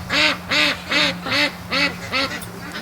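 A duck quacks six times in a steady, evenly spaced series, loud and close, on a lake, with a low hum underneath.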